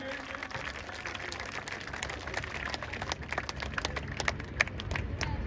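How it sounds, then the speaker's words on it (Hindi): A crowd applauds in scattered, moderately distant claps that keep going and build slightly toward the end. "जोरदार तालियों से उनका स्वागत करेंगे।"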